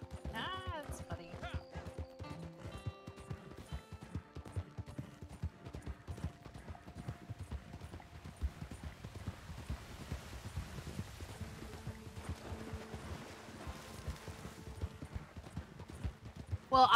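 Horse hooves clip-clop at a steady trotting pace in a video game, close and continuous for the whole stretch, with game music and other in-game sounds layered underneath.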